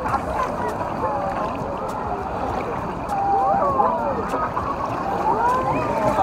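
Artificial tsunami wave surging through the wave pool at Amana Waterpark in Pandi, Bulacan: a steady, loud roar of churning water that swells midway, with excited crowd voices and shouts mixed in.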